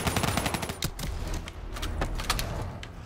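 Gunfire in Black Ops 3 on Realistic difficulty, rapid close bursts of automatic fire crackling continuously through the whole stretch, loud and dense with mechanical clatter mixed in.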